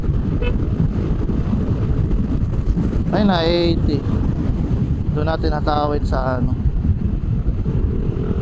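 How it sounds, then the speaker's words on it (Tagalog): Loud, steady wind buffeting the microphone while riding a Suzuki Burgman Street 125 scooter, with someone talking over the roar. "lakas lang ng hangin"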